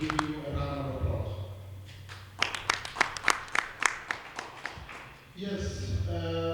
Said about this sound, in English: I encourage you to give you a round of applause.